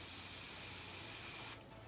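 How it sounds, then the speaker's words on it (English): A continuous lightweight, almost dry aerosol hair spray hisses close by for about a second and a half, then cuts off abruptly. "It is a very lightweight, almost dry spray"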